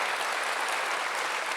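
Church congregation applauding during a Sunday worship service, a steady dense wash of many hands clapping at once that holds evenly for the whole moment with no voices above it.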